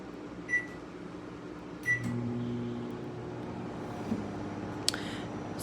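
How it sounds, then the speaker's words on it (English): Microwave oven cooking a bag of microwave popcorn: two short button beeps, then a steady low electrical hum from the running oven, close by and with no voices. "As the popcorn's cooking in the microwave"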